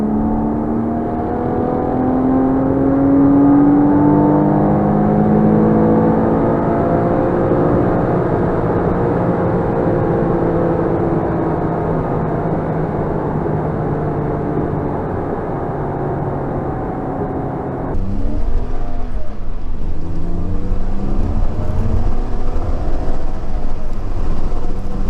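A Porsche Cayman with 33k miles is driven fast along a curvy road, its engine holding a steady, loud droning tone that rises and falls with speed, with a rougher shift in the sound near the end.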